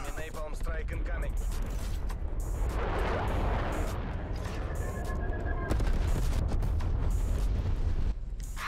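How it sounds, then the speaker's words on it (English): An enemy napalm strike in a sniping video game lands as a dense, sustained roar of fiery blasts and crackling explosions that fills the whole stretch, loud and continuous. "Enemy napalm strike incoming."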